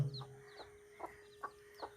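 Soft, scattered clucks from a few native-breed chickens, including a Naked Neck hen, at a moderate distance, coming in short irregular bursts over a quiet background.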